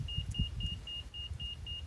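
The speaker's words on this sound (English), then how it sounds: "so this is the slow beep, so it needs to go up" A laser level receiver gives a slow, regular series of short high-pitched electronic beeps, about seven evenly spaced, over a low background rumble.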